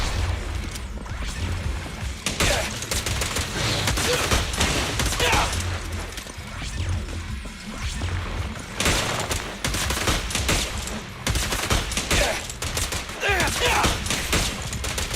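Continuous gunfire in the Zenless Zone Zero video game, dense rapid shots and crashing hits packed into a steady loud battle din with no pauses.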